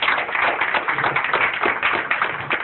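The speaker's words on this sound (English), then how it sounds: "Round of applause for everybody, y'all." An audience at a music event claps together, a busy, continuous patter of hands at moderate loudness with no voices over it.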